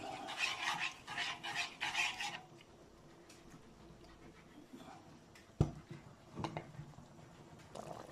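Coleslaw dressing stirred in a pot until it thickens: quick rhythmic scraping strokes for a couple of seconds, then softer intermittent stirring and a sharp utensil knock near the end.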